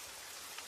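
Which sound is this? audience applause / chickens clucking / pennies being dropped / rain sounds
rain sounds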